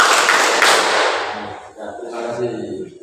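A group claps in a triple-clap pattern during a classroom clapping drill, sharp bright claps at first then fading, followed by voices talking.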